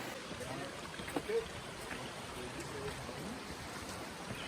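A river flows steadily at a hiking-trail river crossing, a continuous close trickle and rush of water with one brief splash partway through.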